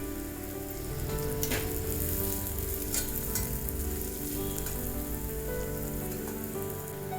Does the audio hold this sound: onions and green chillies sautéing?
yes